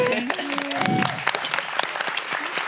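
Audience clapping at a youth forum in Sun Valley, a burst of scattered hand claps in a hall, moderately close, with a voice speaking at the start.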